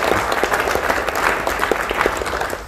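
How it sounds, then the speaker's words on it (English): Audience applause at a PAX 2023 cast and crew panel, a dense, steady burst of many hands clapping filling the whole moment, loud and close, with no talking over it. "Please give them a round of applause."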